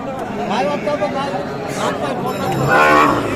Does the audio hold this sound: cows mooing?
yes